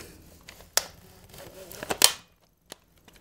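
A few sharp mechanical clicks from an airsoft gun as a part is pulled back, close and isolated, with a small rattle between them and a faint tick afterward.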